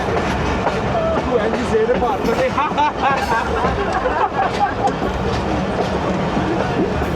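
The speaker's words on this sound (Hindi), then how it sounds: "लूपिंग क्रॉस हो गया है ये, दोनों ट्रेन्स लूप लाइन पे" Awam Express passenger train rolls along a loop line while crossing another train, steady clickety-clack of wheels and rumbling carriage noise close by, with passengers chatting in the background throughout.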